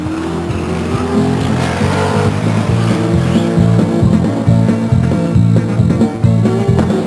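Race cars roar around the oval at Stockton 99 Speedway, with a continuous loud engine drone and rising, shifting pitch as cars pass near, plus faint tire noise under the steady din.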